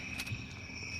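Crickets chirp in PUBG Mobile, a steady high-pitched trill with brief pulsing bursts, faint and continuous against a quiet background with no talking.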